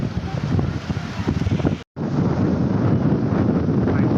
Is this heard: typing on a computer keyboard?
no